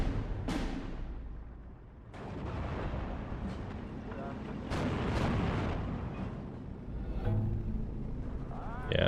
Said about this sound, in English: That is another Pak-38 firing at us from close range.